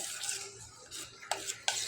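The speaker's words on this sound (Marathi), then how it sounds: "व्यवस्थित चांगल्या प्रकारे मिक्स करून घ्यायचा या पाण्यात" A spoon stirs a rice flour soap mixture in water, giving soft swishing strokes with a couple of sharper taps against the vessel, close and fairly quiet.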